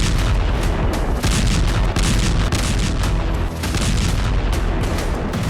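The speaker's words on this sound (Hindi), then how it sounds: "रूस की मिसाइल स्ट्राइक से निप्रो में एक दो नहीं बल्कि कई जबरदस्त विस्फोट हुए" Missile strike explosions in Dnipro, a loud, continuous roar of heavy booms and crackling blasts that rumbles on without pause.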